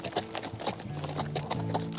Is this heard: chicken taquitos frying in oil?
no